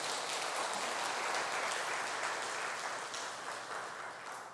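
A church congregation applauds together in the sanctuary, a steady, moderately soft spread of many hands clapping for several seconds before slowly tapering.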